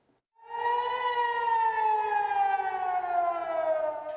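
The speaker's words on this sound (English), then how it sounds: "Sirens sounding across Israel as Iran launches an attack." A civil defense air-raid siren sounds in Israel during an Iranian missile attack, a single loud, sustained wailing tone that starts abruptly and drifts slowly lower in pitch, with no other sound around it.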